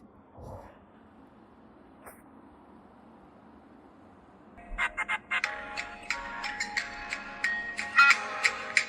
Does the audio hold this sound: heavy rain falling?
no